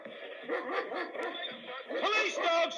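A police dog barks repeatedly and rapidly inside a house during an arrest, close and loud, with a voice talking over it.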